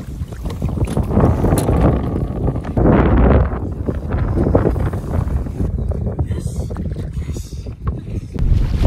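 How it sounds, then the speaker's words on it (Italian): Strong gusty wind buffets the microphone on a kayak during a perch-fishing outing, a loud continuous roar with heavier blasts and faint water movement underneath. "siamo sotto adesso un vento abbastanza potente"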